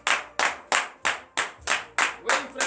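A congregation claps in unison at a Christian morning prayer service in Benin, about eight loud, evenly spaced claps in a steady rhythm, close and clear with no talking over them.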